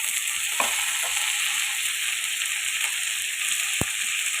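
Julienned potatoes frying with onion and chili in a pan, a steady broad sizzle running throughout with a couple of faint clicks of stirring.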